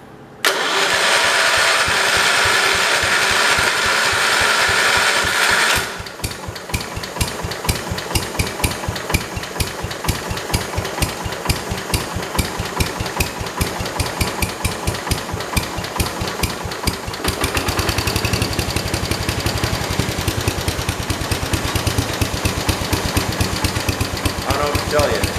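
A 1968 Kohler 112 garden tractor engine with running issues cranks and catches, then runs with a rapid steady chugging beat that roughens and grows louder near the end, close by, with talk at times.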